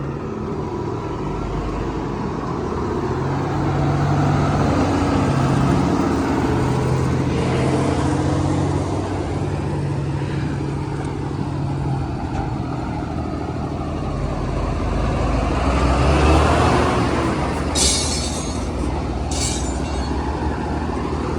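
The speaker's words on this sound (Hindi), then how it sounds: "कितनी ट्रैफिक चली रही है हैवी ट्रैफिक जी है ना वो रठवा हरियाम ब्रिज पर चली रही है" Heavy traffic crosses the Rathoa Haryam bridge in Mirpur, Azad Kashmir, as a continuous rumbling roar of passing vehicles that swells and fades, heard from nearby without talk.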